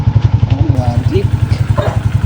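A Suzuki Raider J 115 Fi motorcycle engine idles steadily after a dead-battery repair, a close, even low putter with a faint rev, while a voice speaks briefly over it.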